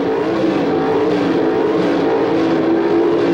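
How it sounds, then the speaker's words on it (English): Pro Stock drag cars, Chevrolet against Mopar, revving at the starting line of a 1978 NHRA drag race: a loud, steady engine roar holding at high RPM throughout, dense and continuous with no talk. "The RPM's climbing at the starting line"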